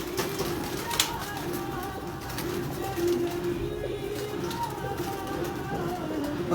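Dozens of pigeons kept by a champion pigeon fancier cooing in soft repeated low calls, moderately near, with a few sharp clicks and faint background noise.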